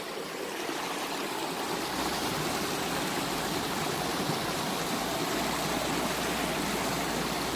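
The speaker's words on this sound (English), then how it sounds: "Now you hear that rushing water" Rushing stream water pours steadily in a broad, unbroken wash of noise, constant and fairly loud throughout with no voices.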